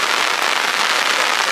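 Heavy rain pours down steadily on a vehicle awning, a dense continuous hiss of drops close by with no voices.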